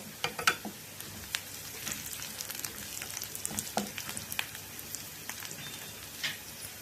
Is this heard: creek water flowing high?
no